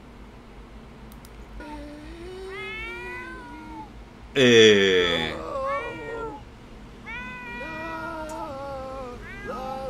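Cat meowing in The Sims video game, several drawn-out meows with one loud, strained caterwaul midway, heard under faint background talk.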